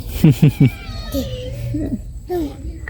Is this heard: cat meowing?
yes